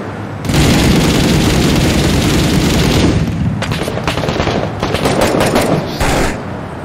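An explosive charge blows open a door in a tactical shooter mission at night during a sandstorm. A loud, close blast gives way to a sustained roaring rumble with crackling debris, which fades and swells for several seconds.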